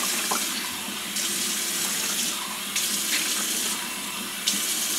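Water pours steadily from a tap into a deep bath, a continuous close rushing splash with small shifts in flow and no talk over it.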